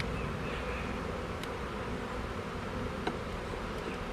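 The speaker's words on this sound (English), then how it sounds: "But all we need now is the bees." Honey bees at a hive being set up for a walkaway split, their dense, steady buzzing humming close and continuous with one or two faint clicks.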